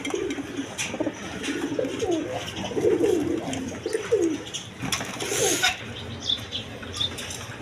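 A pair of Danish pigeons coo in low, throaty bursts at close range, with occasional sharp flurries of wing flapping breaking in amid light background noise.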